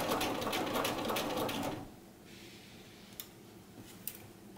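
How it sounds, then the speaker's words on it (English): A sewing machine stitches a set-in sleeve in a short, quick whirring run that stops, followed by near-silence broken by a couple of faint clicks of fabric handling. "So I sew. This is the part that is not eased."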